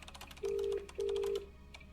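In a video game, a phone rings out with two long, loud electronic beeps over a light clatter of dialing-like tones, with no talking.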